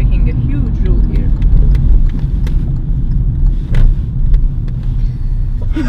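A car being driven at speed, its steady engine rumble and road noise continuous and close throughout, with faint clicks and rattles on top.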